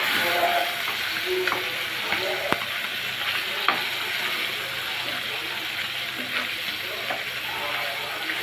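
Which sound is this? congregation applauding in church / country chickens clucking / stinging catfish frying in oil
stinging catfish frying in oil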